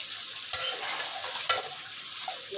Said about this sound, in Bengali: আমি গরুর গোষ্ঠটা কষাচ্ছি